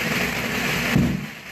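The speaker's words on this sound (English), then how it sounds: "4th of July fireworks mayhem in the street" Illegal fireworks explode in a residential street on Cleveland's west side during the 4th of July holiday week, a dense continuous crackle and rumble that ends in a heavier burst before fading.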